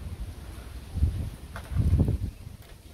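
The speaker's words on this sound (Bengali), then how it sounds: "অনেক বাতাস।" Strong gusts of wind sweep through a village before rain, buffeting the microphone in low rumbling bursts with a quieter rushing background between them.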